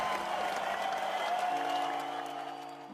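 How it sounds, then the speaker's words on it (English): A crowd claps steadily at the top of a list of names, moderate and somewhat distant, with a faint tone running under it and fading toward the end. "All the applause for you"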